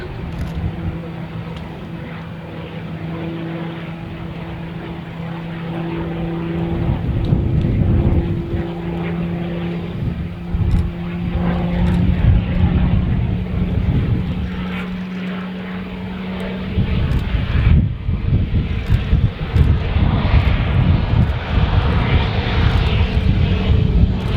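Large propeller aircraft making a very slow flypast at the Farnborough Airshow, a steady drone with a low tonal hum that swells and stays loud as it passes, with a brief sharp break partway through.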